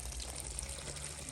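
Water pours steadily from a garden hose into an animal's water dish outdoors, a continuous splashing trickle with a low rumble underneath, fairly close and unbroken for the whole moment.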